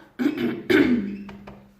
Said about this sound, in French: j'arrête pas de tousser, j'en ai marre